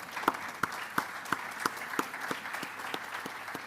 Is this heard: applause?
yes